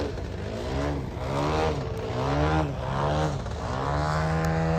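Engine of a Skip Model Designs 52% Ultimates large-scale model aircraft, a loud, close, sustained buzzing drone that wavers in pitch as the plane rolls, heard alone.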